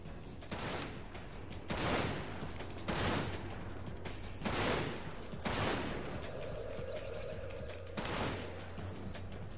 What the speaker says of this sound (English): I guess trying to use a little bit of my rifle, get some kills.